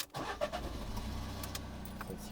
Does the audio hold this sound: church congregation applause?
no